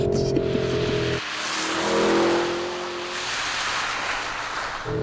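A fast 471 kW performance car accelerates hard on snow, its engine note climbing loudly through gear changes with a brief drop between shifts, steady and close with no talk.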